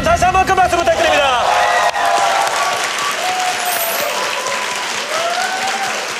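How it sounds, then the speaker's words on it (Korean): Large stadium audience at a celebrity League of Legends tournament match applauds loudly and steadily for both teams, dense clapping with crowd murmur, under a commentator's voice. "양팀 선수들에게 여러분 다시 한번 큰 박수 부탁드립니다."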